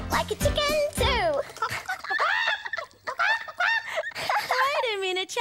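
A person imitates a clucking chicken with a run of squawky, honking vocal bursts, loud and close, mixed with other voices talking.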